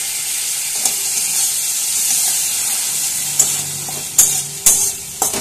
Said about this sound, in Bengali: এবার মিশিয়ে দিচ্ছি বেটে রাখা মশলাটা।